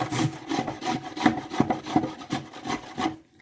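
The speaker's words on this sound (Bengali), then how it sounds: "গ্রেটারের বড় ছিদ্রটা দিয়ে আমি আমটাকে গ্রেট করে নিলাম।" Raw green mango rubbed over the large holes of a hand grater, a close, steady rasping scrape repeating in quick rhythmic strokes with no talk, then stopping at the end.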